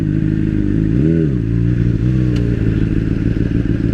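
Motorcycle riding through street traffic, its engine a loud, close, steady drone that swells briefly as the throttle rises and falls, with a faint clatter and wind noise and no talking.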